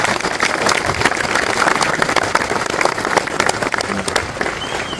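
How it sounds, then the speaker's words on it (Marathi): Large crowd at the Shivrajyabhishek coronation ceremony at Raigad fort applauding loudly, a dense sustained wash of clapping from many hands with faint voices mixed in. "तुम्हाला सर्वांसाठी शिवसेनेसाठी जोरात टाळ्या वाजवा."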